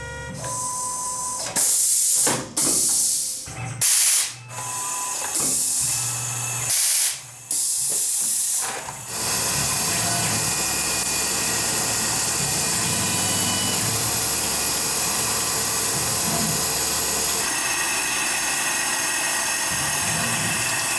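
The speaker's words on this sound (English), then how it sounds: "it's got a 1/16 inch 4-flute end mill, and it's interpolating the holes bigger" A CNC machine running a 1/16 inch 4-flute end mill, interpolating drilled holes larger in knife handle material: steady, loud high-pitched whine and hiss that holds continuously, broken early by several abrupt starts and stops.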